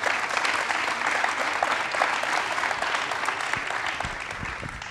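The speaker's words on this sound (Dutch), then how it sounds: "Dames en heren, mag een groot applaus" Sustained audience applause for a speaker at a city-themed lecture day, dense and steady clapping from a large crowd that tapers slightly toward the end.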